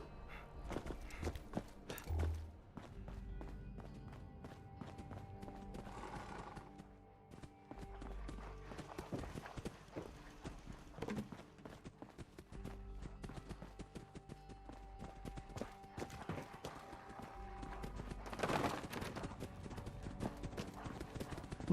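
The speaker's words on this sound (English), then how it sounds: "footsteps everywhere" Footsteps in the video game Fallout 76, a dense run of clopping, hoof-like steps repeating steadily for about twenty seconds amid other game sounds, with occasional faint talk underneath.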